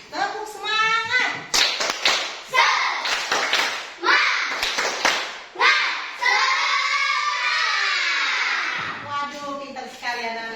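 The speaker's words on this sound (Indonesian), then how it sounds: "Tepuk semangat." Children in a classroom clap a rhythmic spirit clap in patterned bursts, then shout and cheer together loudly, with young voices chanting between the claps.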